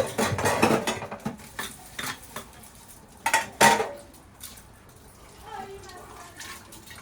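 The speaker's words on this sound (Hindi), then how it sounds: "पानी मिला के थोड़ा मिक्स कर देती हूँ, बर्तन धो जाएंगे इससे।" Pots and utensils clatter and clink in a home kitchen as they are rinsed with water and a little leftover liquid, with bursts of scraping and knocking, and someone speaking intermittently over the sounds.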